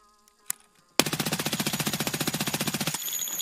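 A rapid, evenly paced burst of automatic gunfire from a gun being tested in a shooter game, about two seconds of steady loud rattling after a single earlier shot, with no talk.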